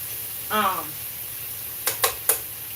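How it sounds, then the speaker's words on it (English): Chicken wings sauté in a pan with a steady faint sizzle, while a brief voice is heard early and three sharp utensil clicks against the pan come near the end. "we're going to saute these for a few more minutes"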